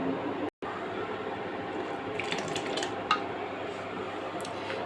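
A spoon stirring thickened boiled milk in a pot for payesh, steady scraping and a low bubbling hiss with a few light metallic clinks and a brief gap early on.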